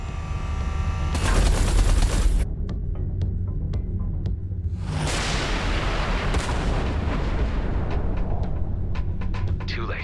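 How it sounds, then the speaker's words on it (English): Artillery fire in the space shooter game Everspace 2 booms loudly and constantly, heavy explosive blasts with a deep low rumble, and rapid bursts of impacts roll and crackle throughout. "Watch out. The artillery."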